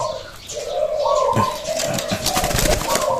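A bird calling with soft, repeated cooing notes close by, over a noisy outdoor background with brief chirps and rustling.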